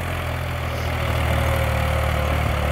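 A New Holland 3600-2 all-rounder plus tractor's diesel engine idles steadily and close by, a constant low rumble with no breaks.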